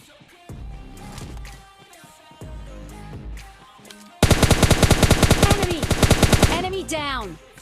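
Automatic gunfire in PUBG Lite during a solo-versus-squad fight, with rapid loud bursts of shots crowding the second half over quieter game sounds in the opening seconds.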